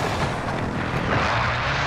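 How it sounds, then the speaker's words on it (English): Airstrike explosions in Call of Duty: Modern Warfare, a dense rumbling roar of blasts blending into one another, loud and sustained throughout with no clear gaps. "Allied precision airstrike incoming."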